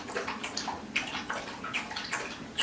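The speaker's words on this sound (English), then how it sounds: "My dog is getting a drink of water." A dog laps water from a bowl indoors, a quiet run of quick wet splashing laps in an uneven rhythm, faint and close, with no talk.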